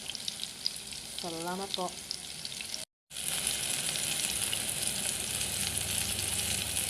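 Banana slices frying in hot oil at home give a steady, bright sizzle throughout, broken by a brief spoken phrase and a momentary dropout before the crackling resumes.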